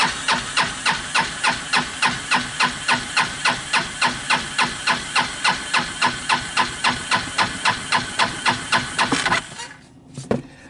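The engine of a cheap, trashed 4x4 side-by-side UTV is cranked by the starter during a compression test, throttle held open, giving a steady, rapid rhythmic chugging for about nine seconds, loud and close, then stopping.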